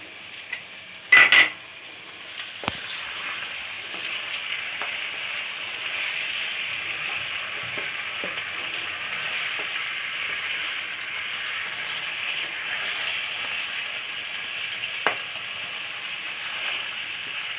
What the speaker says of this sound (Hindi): थोड़ी देर इसको अच्छी तरह भून लें।